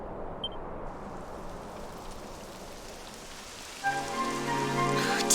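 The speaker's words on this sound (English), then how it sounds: "It would have to go and start raining, wouldn't it?" Rain falling in the video game Dragon Quest XI S, a soft steady hiss of rain that builds, with a musical or ambient tonal layer joining near the end, no talk.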